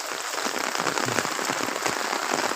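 Rain pattering steadily on a field where farmers are working, a dense, even hiss of drops throughout, with no talk.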